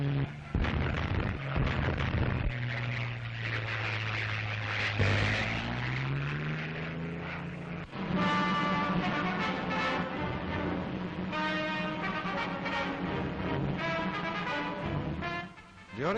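A wartime RAF Tank Buster aircraft attacks German tanks in the North African desert, its engine droning loud and steady while heavy cannon fire rattles in rapid bursts over the roar.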